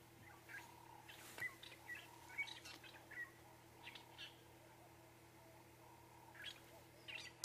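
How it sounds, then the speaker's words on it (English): Faint drongo calls ring out intermittently against a quiet outdoor safari background with a steady low hum, several short sharp notes scattered across the clip. "You can hear the birds, that drongo calling there."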